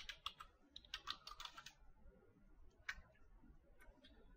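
Quiet, close tapping on a computer keyboard, a quick run of keystrokes followed by a pause and a few scattered clicks, faint and isolated.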